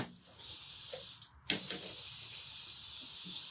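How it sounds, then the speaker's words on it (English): An aerosol can sprays paint onto a craft door hanger in a steady, close hiss, briefly pausing before a second burst continues to the end. "I'm going to spray this."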